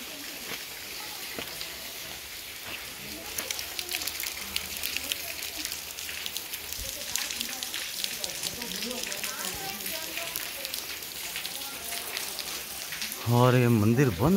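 Steady rain pours down at a temple in a dense, hissing wash with patter on surfaces, continuous throughout and fairly close, while a person talks under it and another voice rises near the end.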